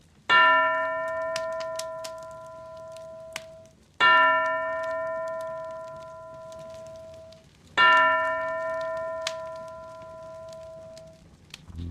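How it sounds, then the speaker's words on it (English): A bell in a synth rendition of A Christmas Carol strikes three times, about four seconds apart, each clear ringing tone decaying slowly and alone. "he saw this bell begin to swing of its own accord"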